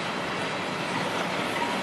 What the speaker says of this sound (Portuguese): Um trem interessante, né?